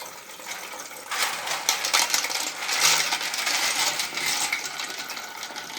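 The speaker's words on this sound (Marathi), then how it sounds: "यात आता मी पाणी टाकून" Water splashes and pours steadily into a metal cooking pot, starting softly and then running fuller, close by with no voices.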